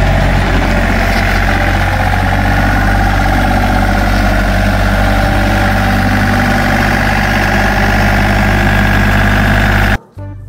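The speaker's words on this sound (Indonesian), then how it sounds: "Yang ini ada mobil traktor." Toy tractor plays a steady, loud engine idle with a low droning hum and constant rumble for about ten seconds, stopping suddenly at the end with nothing else heard.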